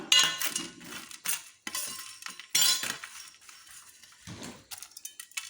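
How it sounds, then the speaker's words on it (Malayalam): Roasted gram flour mixture for laddu being stirred in a pan, with sharp metallic scraping and clinking strokes in short bursts separated by brief pauses; no talking. "നന്നായിട്ടൊന്ന് ഇളക്കി കൊടുക്കാം"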